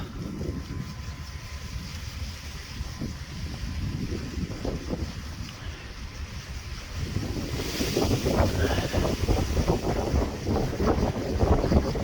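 Steady wind roaring across the microphone, rumbling and buffeting, growing louder and gustier in the second half with water sloshing underneath.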